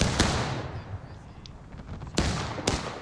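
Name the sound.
cannon firing canister point blank in video game War of Rights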